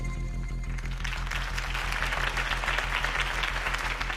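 Applause from a large crowd in Batman: The Telltale Series builds up and continues steadily over a low, droning background hum.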